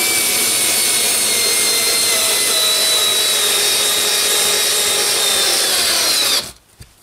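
A Xiaomi 3.6V LiPo cordless electric screwdriver drives a 4 cm screw, giving a loud, continuous high motor whine with a rubbing grind that holds steady for about six seconds, then stops abruptly.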